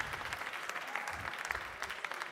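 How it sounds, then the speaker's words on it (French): An audience applauds a barista competitor at a French barista championship selection, with steady dense clapping throughout at moderate distance and no voices over it. "Allez, on l'applaudit bien fort"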